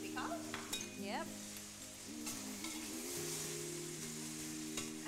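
Sauce with beef sizzles and spits in a hot wok during stir frying, a steady close crackle that runs under tonal background sounds for the whole stretch.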